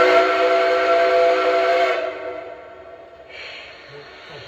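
A Lionel Legacy Southern Atlantic #1905 model train sounds its first whistle tone, a loud, steady harmonic steam-style whistle lasting about two seconds before cutting off, followed by a quieter hiss-like tail.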